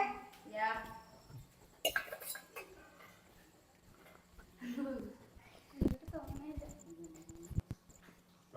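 Pots, plates and cutlery being washed in a home kitchen give faint scattered clinks and clatters beneath ongoing talk.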